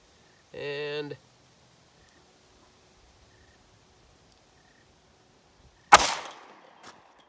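Two sharp .327 Federal Magnum revolver shots fired into ballistic gel, one near the start and one near the end, each a loud crack with a short decaying tail, separated by a quiet stretch.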